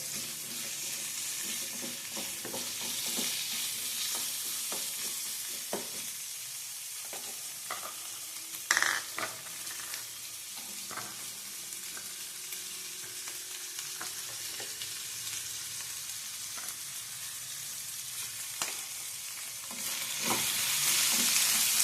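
Urad dal roasts in a pan for a Badanekayi Ennegayi recipe, giving a soft, close sizzle with intermittent stirring scrapes and clicks that rise slightly toward the end.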